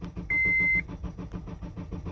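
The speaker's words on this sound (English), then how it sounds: "vehicle won't start, just cranks, and the green immobilizer light flashes" A 2003 Honda CR-V with an immobilizer fault cranks without catching, a steady rhythmic starter churn repeating evenly, with a brief electronic beep near the start.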